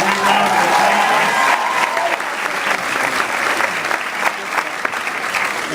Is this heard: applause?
yes